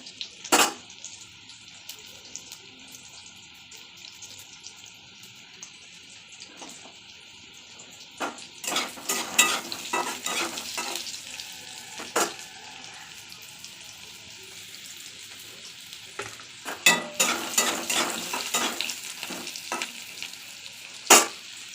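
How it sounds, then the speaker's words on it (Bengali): Potato pieces sizzle in hot oil in a wok with kalonji seasoning, a steady low frying hiss broken by repeated scraping bursts as a spatula turns them. "আলুগুলো উল্টে পাল্টে ভালো করে ভেজে নেব।"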